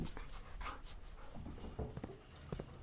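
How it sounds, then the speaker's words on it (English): A puppy pants steadily while being petted in the video game Blue Prince, with quick rhythmic breaths and a faint whimper, close and clear with no voice over it. "Hold on, we gotta pet a puppy."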